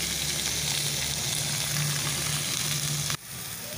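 Fish pieces fry in oil on a banana leaf with a steady, close, even sizzle and a low hum beneath, which drops away abruptly just before the end.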